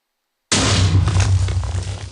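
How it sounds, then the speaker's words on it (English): A sudden loud rumbling blast starts after a short silence, then a sustained booming roar with crackling bursts continues close and heavy, from an erupting volcano in Minecraft. "I'm hearing lots of explosions."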